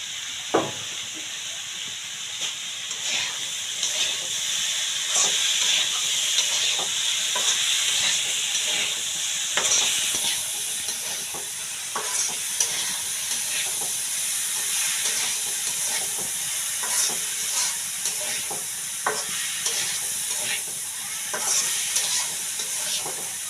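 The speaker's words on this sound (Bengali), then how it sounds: "আলু আর পেঁয়াজ, এগুলো দিয়ে এই যে এই ছোটো মাছগুলো রান্না করতেছি" Small fish cook with potatoes and onions in a pan: a sustained hissing sizzle runs throughout, broken by frequent sharp clicks and scrapes of stirring, with no speech.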